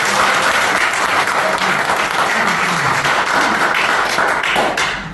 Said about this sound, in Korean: 박수만 치셔서 고맙습니다